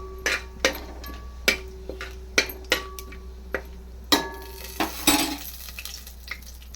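A metal spoon clinks sharply against a pan while cumin seeds are stirred in for tomato rice, with about a dozen irregular close taps over a faint background sizzle and no talking.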